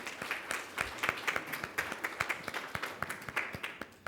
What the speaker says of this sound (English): Let's give a round of applause to all our scholars and speakers who came from all over the globe